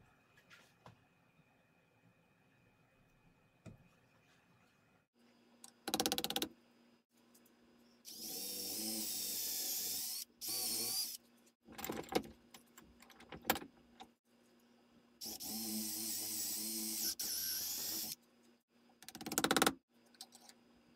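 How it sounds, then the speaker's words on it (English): A power drill whirs in two sustained bursts, biting into a wooden Kar 98 rifle stock, with short tool clicks and handling knocks between runs in a quiet room. "Next, I'll mark their locations so that I can drill them out."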